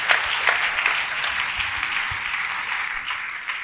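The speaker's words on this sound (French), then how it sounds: "Let us clap for the Lord." A church congregation claps for the Lord, a dense steady wash of many hands applauding close by, continuing evenly throughout without speech.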